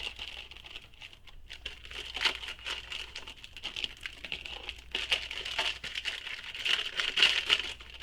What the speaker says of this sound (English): Then we're going to take some double-sided tape